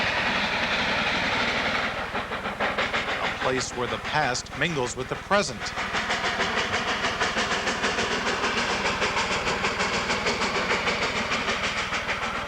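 A Cumbres and Toltec Scenic Railroad train on the New Mexico–Colorado border rumbles steadily with a rhythmic clatter and a brief whistle-like tone in the middle, running continuously beneath a narrator's voice.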